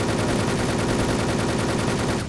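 A video game gun fires in a rapid continuous burst for about two seconds, loud and close, with evenly spaced shots before it cuts off.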